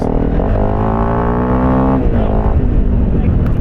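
A dirt bike engine, the Honda CRF300 Rally or Kawasaki KLX230S, revving hard at full throttle close by, with a steady rising and falling motor drone and people talking over it.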